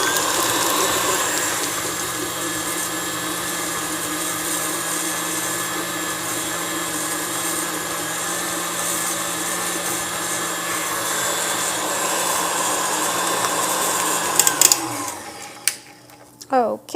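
An electric mixer creams butter and cream cheese, a loud steady motor whine holding for about fourteen seconds before cutting off, followed by a few clunks and a short burst.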